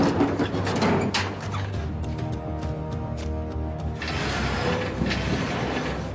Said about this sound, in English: We're just gonna snug it up with this crescent wrench here